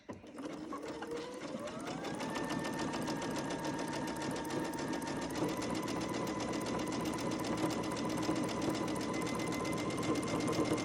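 Sewing machine stitching cloth face masks, running steadily and loudly without pause, its motor whine rising in pitch early on, then holding an even, continuous mechanical hum.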